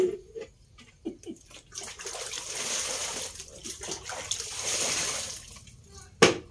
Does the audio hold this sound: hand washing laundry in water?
yes